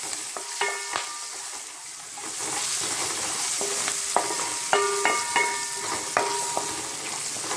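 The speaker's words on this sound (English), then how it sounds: "okra, onions, and green chili. I'm going to fry this." Okra, onions and green chili fry in a pan with a steady sizzle, broken by repeated scraping clinks of a spoon stirring at an uneven rhythm.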